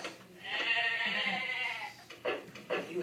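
Goat bleating in a single drawn-out, wavering cry lasting about two seconds, followed by two shorter bleats, fairly clear with no talk over it.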